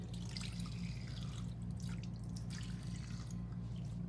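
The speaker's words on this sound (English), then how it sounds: "And you just rinse your hands." Tap water runs steadily while hands are rinsed under it at a sink, a constant splashing flow with faint drips, fairly quiet and uninterrupted with no talking.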